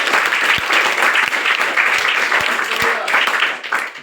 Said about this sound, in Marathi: टाळ्या वाजून सर्वांनी